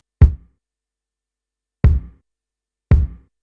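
Three punchy, deep kick drum hits from a Splice plugin run through an 1176 compressor, heard alone with short decays and uneven gaps between strikes.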